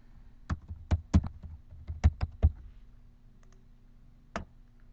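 Several crisp clicks of keys on a computer keyboard, tapped in a short irregular burst and then one lone click after a pause, close and clear in a quiet room with no voices.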